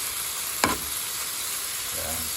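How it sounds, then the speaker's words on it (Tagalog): Ginger sautéing in a pan for Filipino papaitan, a soft steady sizzle with a sharp utensil clank and a brief stirring scrape. "Gigisa natin. Hanggang na rin yung luya para"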